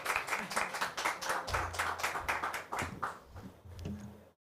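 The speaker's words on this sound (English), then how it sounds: "can we just have a round of applause again for them" Audience members at a startup event clap for the presenters in a rhythmic round of applause that tapers off toward the end, with a low hum running underneath.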